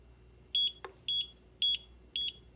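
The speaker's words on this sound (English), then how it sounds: "Single beeps, so it is set to the D8 protocol." A Radiomaster T8 Lite remote controller gives four short, high electronic beeps at an even pace while binding, with a brief click in between, against quiet background hiss.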